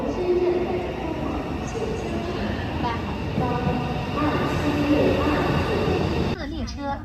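A high-speed train on a Chinese railway line arriving at a station, a steady rumble of rolling wheels with faint squeals and clatter, loud and close, while people talk over it.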